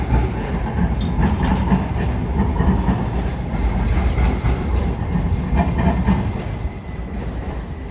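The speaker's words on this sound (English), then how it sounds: "they got trains on the street" A train runs along a San Francisco street, heard as a steady, loud rumble with faint rail clatter that holds for the whole stretch and eases slightly near the end, with no voices over it.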